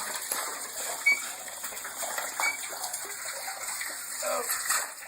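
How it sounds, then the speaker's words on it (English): A bucket lowered down a well in Ukraine and filling with water, heard as a steady sloshing, gurgling wash with a few small splashy knocks, fairly close and continuous throughout. "And the bucket goes down. Oops. Now it's full of water."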